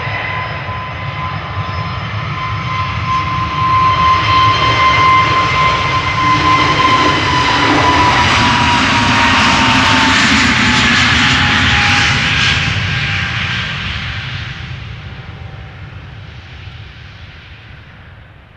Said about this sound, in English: Right, EasyJet A321neo going to Bristol.